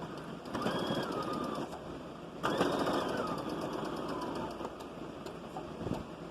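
A sewing machine runs in bursts while top stitching children's overalls, a fairly quiet mechanical whir and rapid needle chatter with brief pauses and clicks between runs.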